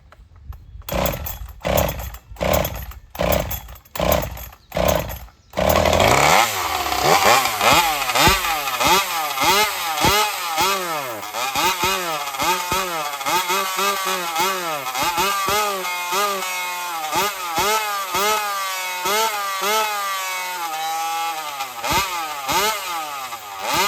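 Racing chainsaw build being tested: a handful of sharp pull-start tugs, then the engine catches and roars loudly up close, revving up and down repeatedly for the rest of the clip.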